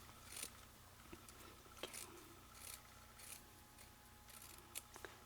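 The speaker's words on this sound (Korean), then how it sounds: "끈은 이 띠지를 반을 갈라서 사용하겠습니다. 이 반을 가위로" Scissors snip through a paper band to split it in half while a wildflower bouquet is being made, giving several faint, quiet cuts at irregular intervals with no one talking.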